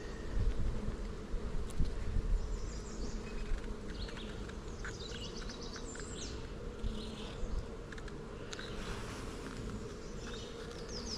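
Honeybees buzz steadily and densely during an inspection of a hive where new foundation has been added, with individual bees droning close by over the dense hum and no talking.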